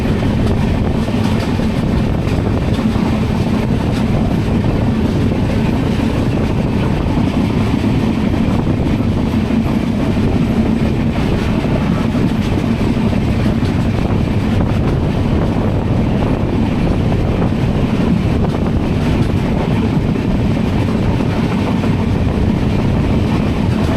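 Diesel-hauled Ranthambore Express running between Jodhpur and Jaipur in Rajasthan, a loud, steady rumble of the moving train with constant wind buffeting, no talking.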